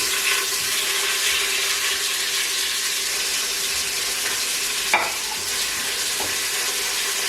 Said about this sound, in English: That's the sound you want to hear, the sizzle.